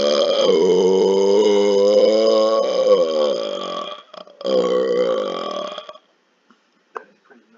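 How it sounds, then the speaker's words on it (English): A long, loud, voiced burp rumbles for about four seconds, breaks briefly, then resumes for another stretch before trailing off into near silence with a small click. "Speak softly and have a loud burp"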